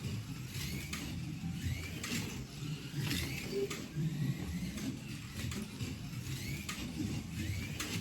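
A slot car tyre truer grinding the tyres with a continuous mechanical whir and buzz, punctuated by repeated faint ticks and clicks, with no talk.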